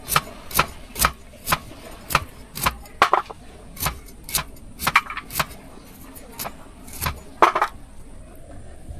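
A knife cuts around the seeds of figs on a board in a village kitchen, making a steady run of sharp, evenly spaced taps, about two per second. The taps are close and clear against low background rumble.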